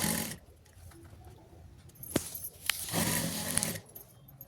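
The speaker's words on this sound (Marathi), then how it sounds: "आणि चारही कडेने व्यवस्थित शिलाई मारून घ्यायची" A sewing machine stitches around all four edges of a mat made from an old bedsheet. It runs in bursts of mechanical whirring, separated by quieter pauses and a few sharp clicks.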